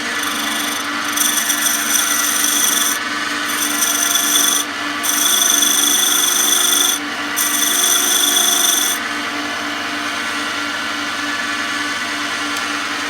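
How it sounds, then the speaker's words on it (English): Skew chisel taking planing cuts on spinning wood while turning a pen on a lathe, a loud continuous motor hum with bright shaving hiss in several bursts separated by brief pauses, then the lathe running alone. "what I'm going to do now is sort of planing cut"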